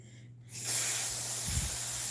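Dry shampoo aerosol sprayed into the inner sections of hair: a short quiet pause, then a strong continuous hiss starts and carries on to the end, close and loud, with a brief low breathy thump near the end.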